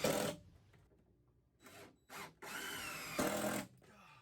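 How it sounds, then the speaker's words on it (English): Power drill driving screws through wooden floor joists into the end of a wooden support block, in a pantry and cold room build; several bursts of drilling, the longest two near the end, with quiet gaps between. "I'm screwing through each floor joist into the end of the block."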